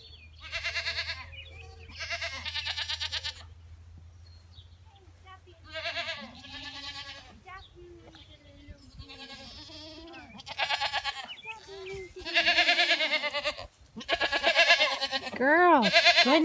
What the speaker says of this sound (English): See if we can sneak up on the goats.